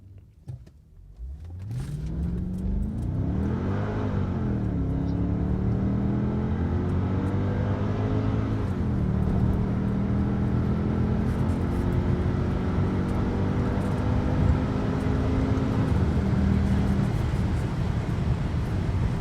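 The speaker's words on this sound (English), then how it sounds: "we're going to try some 0 to 60s and see what happens" A Mercedes CLK55 W209 accelerates hard through a 0 to 60 run, its engine climbing steadily in pitch with gear-change dips, loud and continuous for most of the run, heard from inside or close by.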